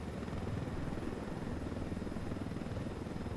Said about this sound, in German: Da ist auch ein Heli.